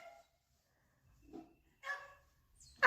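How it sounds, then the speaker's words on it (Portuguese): A puppy gives a few short, high yips and barks, spaced apart with quiet gaps between them, the last one louder and closer. "cachorrinho pra doação"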